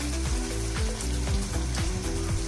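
Four or five green chillies go into chicken curry frying in a pan, giving a steady close sizzle with repeated stirring scrapes, no talk.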